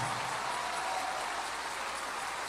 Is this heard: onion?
no